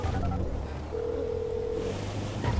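A call being placed on a phone in GTA V, with a single steady ringing tone lasting about a second over low, rumbling game background noise.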